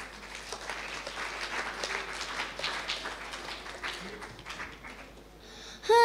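An audience claps for a child performer at a kids' naat competition, a moderate spread of applause that fades toward the end before a brief louder sound cuts in.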